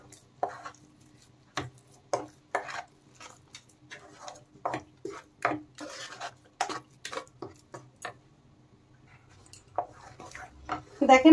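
Mango paste and kneaded chhena are stirred together in a wok, giving sparse, irregular spatula knocks and scrapes against metal with quiet gaps between.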